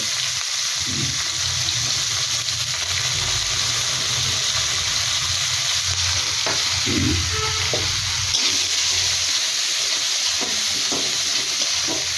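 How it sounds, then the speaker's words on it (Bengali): Green chillies and onion fry in a pan of hot oil for a prawn and taro stem dish, giving a loud, steady sizzle broken by occasional stirring scrapes, with no talking. "ভালো করে ভাজা ভাজা করে নিতে হবে"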